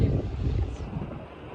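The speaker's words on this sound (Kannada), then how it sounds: "ಗಾಳಿ ಎಲ್ಲ ಎಷ್ಟು ಚಂದ ಬರತ್ತೆ." Wind rushes and buffets against the microphone in a steady low roar, easing slightly toward the end, with no voices.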